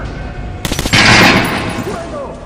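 Soldiers in the video game Metro Last Light Redux fire a sudden, loud volley of automatic gunfire that rattles for under a second, then fades into a lingering echo.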